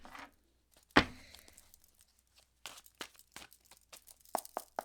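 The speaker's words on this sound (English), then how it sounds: "let me shuffle this" Tarot cards shuffled on a table near the microphone, with a sharp slap of the deck followed by quiet gaps and then a run of soft riffling snaps and crinkly card noises.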